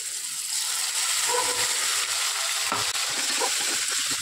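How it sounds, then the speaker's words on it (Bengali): Chopped onions frying in oil in a pan while being stirred for an egg curry, a steady close sizzle with soft scraping stir sounds throughout and no talk. "পেঁয়াজটা একটু ভাজা ভাজা করে নেব"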